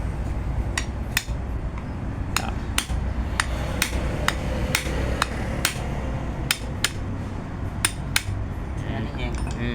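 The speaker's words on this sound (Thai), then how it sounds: "พอเราตอกมันก็แทกกับไม้ก็จะไม่หมุน" Sharp hammer blows knock a part against a wooden block while a diesel fuel filter is replaced on a Toyota Vigo pickup, about fifteen crisp, irregularly spaced strikes ringing over a steady low background hum.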